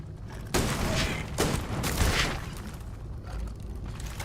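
Weapon fire in the Starfield video game: two loud bursts of rapid, rattling shots with echoing booms, a short gap between them, then a quieter rumbling tail.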